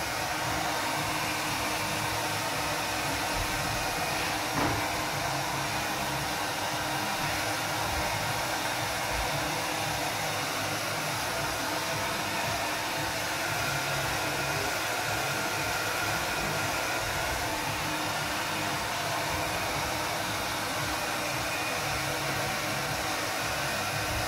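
A hair dryer blows steadily to dry and crack decorative plaster on a wall, a loud, continuous, even whooshing drone close by that lasts throughout without any talking.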